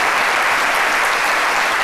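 Dense, loud studio-audience applause on a French midday TV set, a continuous even roar of clapping with no gaps.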